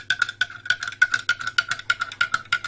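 A spoon stirs salt into a glass of water, a quick rhythmic series of bright clinking taps against the glass, close and fairly clear, with no talking.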